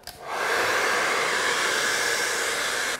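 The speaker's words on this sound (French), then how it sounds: "Ce sèche-cheveux fait environ 2000 watts, un petit peu moins" A hair dryer of about 2000 watts, set to maximum temperature and powered from an ALLPOWERS S 2000 PRO power station, switches on with a click and rises into a steady, close, loud whooshing whine that holds to the end.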